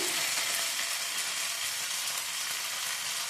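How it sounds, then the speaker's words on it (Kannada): Green masala for street-style masala puri fries in a pan with a steady, loud, close hiss and crackle of sizzling oil that holds constant throughout, with no voices. "ಇದು 1-2 ನಿಮಿಷ ಫ್ರೈ ಮಾಡ್ಕೊಬೇಕು"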